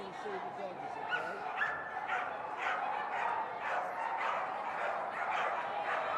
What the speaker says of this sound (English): I'm going to show you the doggies